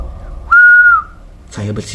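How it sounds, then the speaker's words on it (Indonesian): A single sustained whistled note, loud and close, lasting about half a second, followed by a brief burst of other sound. "Saya pun akhirnya mencoba untuk bersiul beberapa kali"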